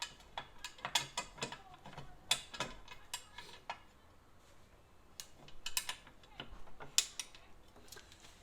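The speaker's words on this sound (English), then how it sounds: "I'll pull back on this little spring, and I can put the sewing deck in its place." A sewing machine has its small spring pulled back and its sewing deck fitted into place, giving a string of sharp plastic and metal clicks, ratcheting snaps and rattles at close range, irregular and alone.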